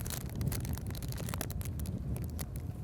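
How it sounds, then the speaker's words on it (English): Strong wind buffets the microphone on a bowhunting trip in high winds, a steady, loud rumbling roar with continuous gusty crackle across the whole stretch and no talking. "If you can't tell from the mic, it's super windy."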